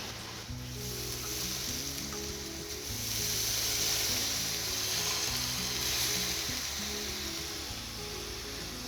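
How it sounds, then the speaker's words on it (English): Claret wine poured into a pan of salted, peppered meat that has marinated for days sets off a steady, fairly loud sizzle and hiss, with a low background hum running beneath it for the whole stretch. "Put the claret in there."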